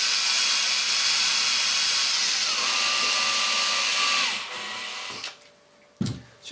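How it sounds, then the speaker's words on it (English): A power drill whines steadily up close, drilling 6mm holes in a Lotus Elan M100 front bumper against a wood block, its pitch shifting once, then cuts off, leaving a few quieter clicks and knocks. "Then just work your way around drilling 6mm holes to match the centres on your spire clips."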